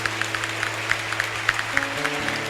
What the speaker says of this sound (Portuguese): Vamos dar uma salva de palmas para as nossas mães aqui presentes?